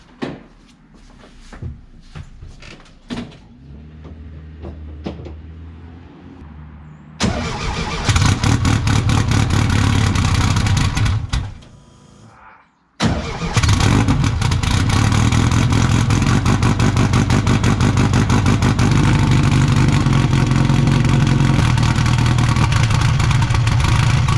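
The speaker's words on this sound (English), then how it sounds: "let's do a cold start" A 1956 VW Beetle engine cold starts after some clunks and handling noises, then idles and revs loudly, cuts out briefly, and fires back up into a sustained, buzzy, close running roar.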